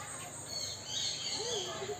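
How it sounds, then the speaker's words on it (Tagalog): Birds calling and chirping in a zoo park aviary, a few faint high tweets and short call phrases over steady background hiss, with soft voices nearby. "Ang ganda ng mga ibon dito."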